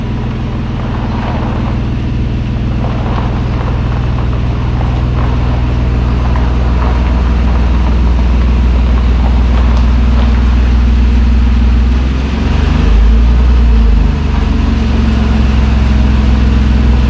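A Chevrolet Silverado pickup engine runs loud and close as the truck pulls into the shop. It holds a steady low rumble with a brief surge near the end and no talk.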